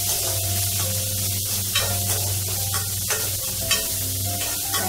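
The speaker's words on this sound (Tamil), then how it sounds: "வெங்காயத்தை நல்லா ஒரு நிமிஷம் வதக்கிட்டு" Onions with curry leaves sautéing in a pan for a tea-stall kara vadai snack, a steady sizzle with repeated scraping stirs of a spoon against the pan, close and continuous with no talking.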